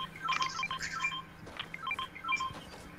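Phone keypad dialing tones chirp through voice chat during a Fortnite match, a quick run of short electronic beeps at moderate volume with a faint background rumble.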